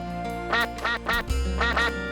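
Ducks at a pond give several loud, nasal quacks in quick irregular bursts over a steady droning background.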